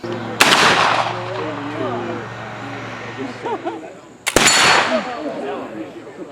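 Two loud, sharp muzzleloading firearm shots ring out about four seconds apart at an outdoor early American trade fair, each followed by a rolling echo, with people talking in the background.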